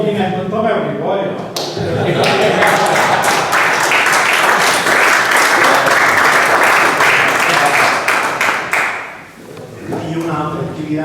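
Loud, dense applause from an audience at an association's annual assembly fills most of the stretch. It begins after a brief voice, swells and holds steady, then fades near the end as talking resumes.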